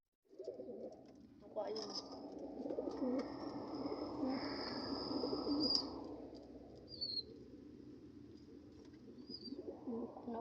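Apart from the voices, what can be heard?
pigeons cooing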